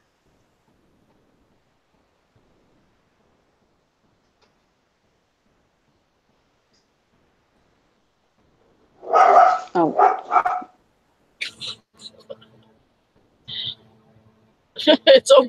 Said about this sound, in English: We have dogs that bark too.